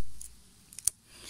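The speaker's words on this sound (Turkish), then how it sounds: "onları makasla kesiyoruz" Scissors snipping fresh purslane in a garden: a couple of quick, sharp metallic snips close by, with faint rustling in an otherwise quiet outdoor setting.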